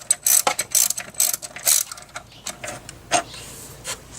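A ratchet works loose the idler pulley bolt on a BMW E36, giving quick bursts of close, crisp clicking in a rapid uneven rhythm with short pauses.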